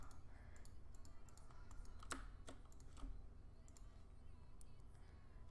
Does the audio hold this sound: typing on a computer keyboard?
yes